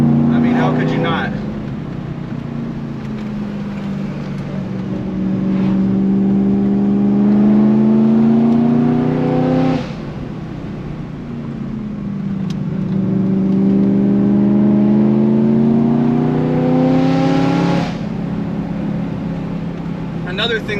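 A BMW E92 M3's 8,700 RPM V8 revs up in two long rising pulls, each climbing steadily before cutting off, loud and close with a smooth, rich tone.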